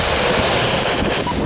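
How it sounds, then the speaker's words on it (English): Strong wind gusts of 60 to 70 mph roar steadily and loudly across the microphone, a dense rushing buffeting that fills the short moment without a break. "It's wind, holy crap."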